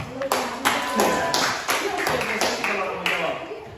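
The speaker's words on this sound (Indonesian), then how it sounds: "tepuk tangan dulu untuk siapa namanya?" Classroom clapping for a student, a few distinct hand claps in an uneven rhythm, close and moderately loud, with a voice speaking among them.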